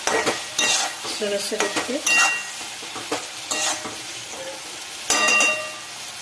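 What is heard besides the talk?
stirring eggs into roasted masala in a pan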